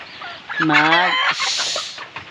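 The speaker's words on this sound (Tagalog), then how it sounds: "nang gulo na yung mga manok, nagkukugulo yung mga manok" Chickens cluck and squawk noisily for a couple of seconds, a busy flock close by with overlapping calls.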